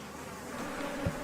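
A swarm of killer bees buzzes in a steady, close hum that builds briefly near the end, with no voices.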